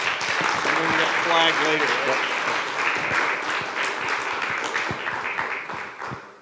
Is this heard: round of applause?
yes